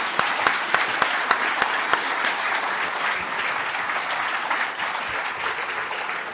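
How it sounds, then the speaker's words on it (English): Audience applause at a Libertarian federal election campaign launch in Victoria, opening with a few sharp distinct claps that quickly swell into a steady, moderately loud round of clapping from the crowd. "Can we get a round of applause?"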